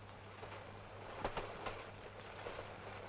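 Continuous low rumble and rattling of a train rolling past at a distance, with faint rhythmic wheel clacks and a steady hum.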